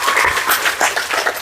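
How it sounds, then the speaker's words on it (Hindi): Loud applause from a lecture-hall audience at an Indian motivational talk, a dense, steady wash of many hands clapping close by, with no voices over it. "वाह क्या बात है, जोरदार तालियां"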